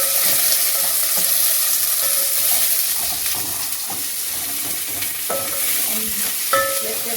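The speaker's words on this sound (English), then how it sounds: "Then we add our onions." Onions fry in two tablespoons of heated oil, giving a continuous close sizzle with light spatula scrapes and occasional taps on the pan throughout, nobody speaking.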